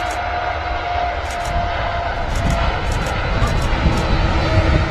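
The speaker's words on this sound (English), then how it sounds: "Taxiing out now is the Aer Lingus A330-300 operating to Bridgetown" Aer Lingus Airbus A330-300 jet taxiing out at Manchester Airport, its engines giving a loud, steady low rumble and whine close by, broken by a few faint clicks.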